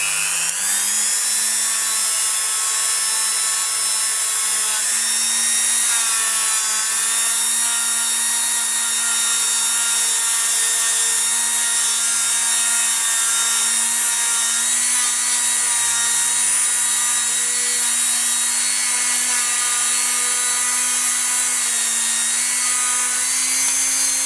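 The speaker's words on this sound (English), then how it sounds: "So I'm using a Dremel 3000 and I'm just going to buff them up" A Dremel 3000 rotary tool buffs polymer clay abalone pieces with a loud, steady high-pitched whine. The pitch wavers slightly as pressure on the clay changes, running close and unbroken throughout.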